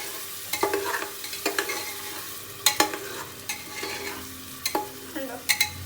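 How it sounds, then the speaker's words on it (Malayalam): A spoon stirs biryani masala frying in a pan for Dindigul thalappakatti biriyani, with repeated scraping strokes and sharp clinks against the pan over a soft steady sizzle, close and alone without speech. "ഇനി നമുക്കിതൊന്ന് ജസ്റ്റ് ഇളക്കി കൊടുക്കാം."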